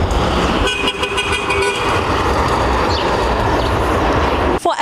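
Vehicle horns toot amid steady traffic noise, several short blasts over a constant roar of passing vehicles nearby.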